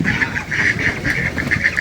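A flock of farm ducks quacking and honking steadily while fed a rice and wheat mix beside a wetland, repeated calls close by in a dense, continuous chorus.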